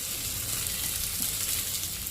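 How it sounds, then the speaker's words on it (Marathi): Sabudana thalipith sizzles in hot ghee on a tawa, a steady bright crackling hiss that stays even and close throughout, with no voices. "आता मी हा वाला पराठा त्याच्यावरती टाकते."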